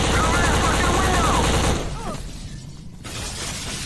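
Rapid automatic gunfire in the shooter game BLACK, a loud dense burst of shots that cuts off partway, leaving quieter game ambience and a faint voice behind.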